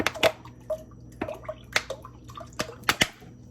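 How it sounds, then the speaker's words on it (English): A real lemon is squeezed by hand for lemon pie filling, giving a run of close, wet squishes and sharp drips in an irregular rhythm against a quiet room. "Oh, you got to squeeze it like a real lemon."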